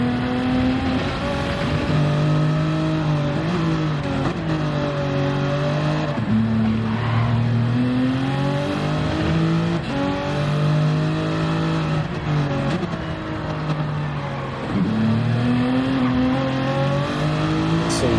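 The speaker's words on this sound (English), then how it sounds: "Really short shifting the car, and now using 5th and 6th gear." A Toyota Supra GT3 race car in a racing video game drives loud and close, its engine rising and dropping repeatedly through short-shifted upshifts in fifth and sixth gear, with some tire noise.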